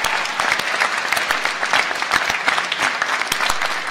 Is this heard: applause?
yes